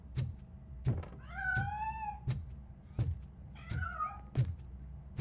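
A cat in the Robocop: Rogue City video game gives two drawn-out meows, set among regular heavy mechanical footstep thuds from the game, all close and clear.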